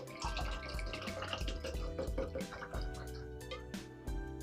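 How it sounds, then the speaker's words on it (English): Smirnoff caramel flavored vodka poured into a cup, a quiet, steady liquid trickle and splash that runs for a few seconds, with no talking. "we're going to do a cup of the caramel flavored vodka"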